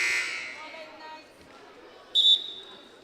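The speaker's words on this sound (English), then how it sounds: "So the buzzer has been blown." A loud electronic buzzer sounds once, briefly and steadily, in a high school gym during a women's varsity volleyball match, after fading crowd noise.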